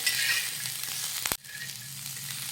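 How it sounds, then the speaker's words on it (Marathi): Onions frying in a little oil, a close steady sizzle with soft stirring, broken by one sharp knock of a utensil against the pan before the sizzle resumes more quietly. "थोडंसं तेल घालूयात आणि हलक्या गुलाबी रंगावर हा कांदा व्यवस्थित भाजून घेऊयात"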